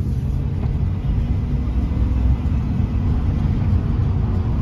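A 2006 Chevy Silverado 2500 pickup rolling along in four-wheel drive, a steady, loud low engine and drivetrain rumble with road noise heard from inside the cab, no talking.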